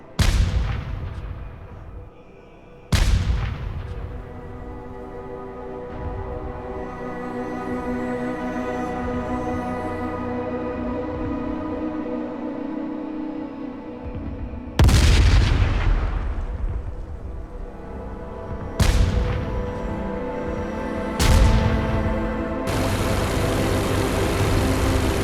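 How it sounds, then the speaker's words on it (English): Anti-aircraft flak bursts in the IL-2 Great Battles flight game: five sharp, loud cracks spread out at uneven intervals over a steady droning aircraft engine, each one trailing off in a rumble. "Flak is getting very thick."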